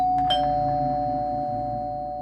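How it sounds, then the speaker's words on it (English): A doorbell chime rings once with a sharp strike, then a sustained tone that slowly fades, loud and close with no voices. "I definitely confirm it's my doorbell."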